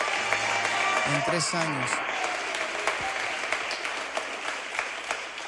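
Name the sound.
congregation applause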